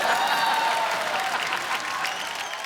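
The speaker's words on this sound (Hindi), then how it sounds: "एक बार अभिषेक भाई के लिए जोरदार तालियां हो जाए।" Studio audience applause on a Hindi comedy talk show, a dense, steady wash of clapping from many hands that holds level for a few seconds and fades slightly at the end.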